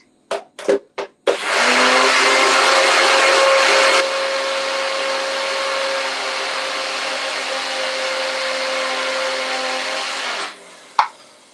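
A small NutriBullet blender whirs steadily as it blitzes parsley into a green crumble, starting after a few short pulses, its loud motor dropping slightly partway through, then cutting off with a final clunk.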